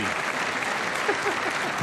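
Sustained applause fills a large chamber at the State of the Union address with President Donald J. Trump, a dense, steady clapping crowd held at an even level throughout, with a faint voice mixed in beneath.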